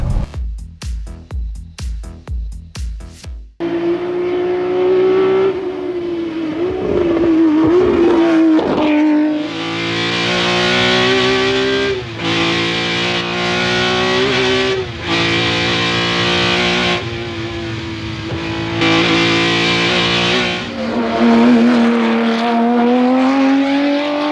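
A BMW E30 engine revs hard and climbs through the gears, pitch rising and dropping with each shift, loud and close from inside the car.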